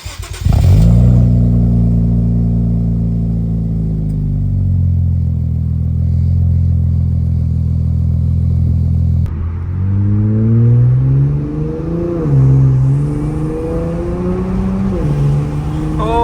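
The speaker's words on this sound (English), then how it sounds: "I can hear my turbos, I can hear my intakes sucking all that air. The exhaust, I can hear the tone." An Infiniti Q60 with twin turbos, upgraded intakes and a full Tomei exhaust idles with a steady deep drone, then is revved repeatedly in rising and falling sweeps, loud and close, with turbo whoosh and intake noise.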